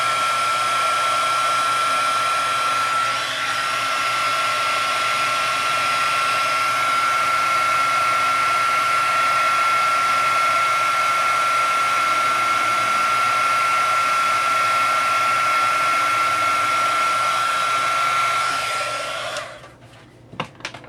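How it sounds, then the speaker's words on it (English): A heat embossing tool blows a steady, close whooshing hum with a thin constant whine on top for about nineteen seconds, then switches off with a few small knocks. "I'm going to let my heat tool get a little bit warm, and then I can heat this."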